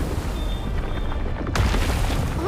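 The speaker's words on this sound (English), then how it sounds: "Wait, what's that sound? Explosion." In Genshin Impact, a deep booming explosion bursts out mid-clip over low rumbling game ambience, loud and close, with a bright crackling tail after the blast.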